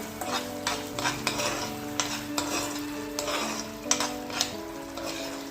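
A tomato and salt mixture for homemade pasta sauce being stirred in a pan, giving a soft sizzle with regular scraping and tapping strokes of a spoon, close and unhurried, with no voices.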